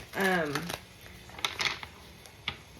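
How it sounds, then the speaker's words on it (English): Tarot cards being shuffled in bursts of soft riffling and flicks, fairly close, following a brief stretch of talking. "I guess we're going to shuffle more."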